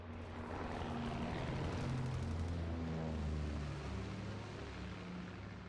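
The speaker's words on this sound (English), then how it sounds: "Enemy recon aircraft in the air." Enemy recon aircraft passing overhead in a video game, a steady low droning engine hum that swells and fades slightly over several seconds, with no talk.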